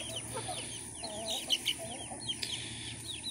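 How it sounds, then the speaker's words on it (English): Outdoors, a flock of chickens chases pieces of wheat bread thrown to them, giving soft, scattered clucks and short chirps over a quiet, steady background. "they're gonna chase that one chicken for that one piece of bread that they think is better than the rest of it"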